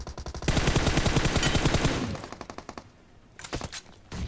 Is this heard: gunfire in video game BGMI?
yes